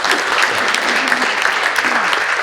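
A brisk round of applause from the audience at a chamber of commerce forum for elected officials, dense and close, with distinct claps peppered through a steady roar.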